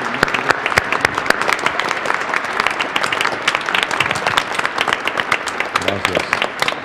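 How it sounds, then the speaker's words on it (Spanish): A church congregation at a Saturday Mass gives a hearty round of applause, with sharp, close hand claps over a steady wash of clapping and voices mixed in. "Les damos un fuerte aplauso."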